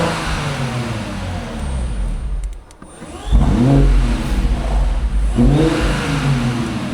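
A Porsche 911 Turbo engine revs indoors, a deep mid-range roar that drops briefly to a lull before surging back with strong rising revs, near and loud throughout.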